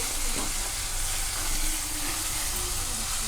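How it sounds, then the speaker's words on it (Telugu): Amaranth greens hit hot oil with ginger-garlic paste and turmeric, giving a continuous broad sizzling hiss that stays steady and fairly close, with faint stirring underneath. "ఇప్పుడు తోటకూర వేసేసుకుందాము"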